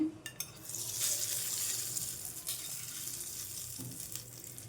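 Tempering for a ridge gourd and peanut chutney fries in hot oil with a steady, close sizzle, faint utensil clinks near the start and no talking.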